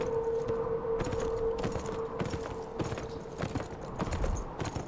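In the PS4 game Beyond: Two Souls, a horse's hooves clip-clop in a steady, even rhythm over a constant low hum, loud and close throughout.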